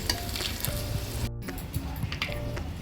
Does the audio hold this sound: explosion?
no